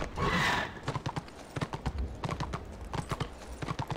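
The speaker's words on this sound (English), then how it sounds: "What is that noise that these donkeys make" A donkey mount in the Return of Reckoning game makes its jump noise: a loud whinny-like cry at the start, then rapid, rhythmic hoof clip-clops continuing close by, no talking.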